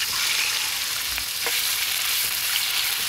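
Pork liver fries in hot oil in a pan, a dense, steady sizzle close up with a couple of faint utensil taps, no voices.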